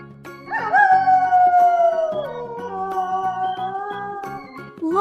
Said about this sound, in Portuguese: Lobo.